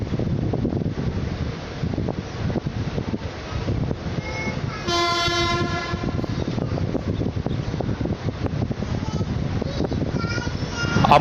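A train rolls into Rayagada railway station with a steady rumbling, clattering run and wind rush, and a loud horn blast sounds through the middle.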